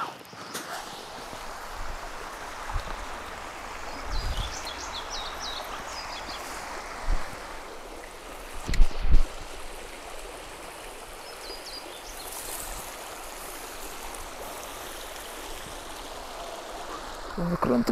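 A small stream flowing steadily as a broad, even rush of water, fairly close and continuous, with a few brief knocks and a faint voice now and then.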